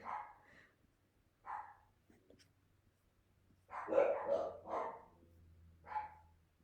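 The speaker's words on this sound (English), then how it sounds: "there's dogs barking" Dogs barking in a few separate short bursts somewhere in a home, moderately close, with gaps of quiet between the barks.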